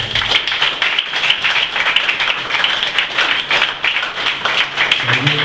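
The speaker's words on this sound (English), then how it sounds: "So I'll give a big round of applause to Bevis." Applause from an audience at the opening of a boxing club, honouring Bevis Allen; steady dense clapping fills the whole stretch at close range with no voices over it.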